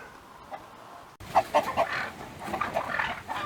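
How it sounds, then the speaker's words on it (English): Four chachalacas shut inside a chicken coop in Deep South Texas, giving loud, close, repeated clucking calls in irregular bursts after a quiet start. "4 Chachalacas that wandered into the chicken coop, and I closed the door."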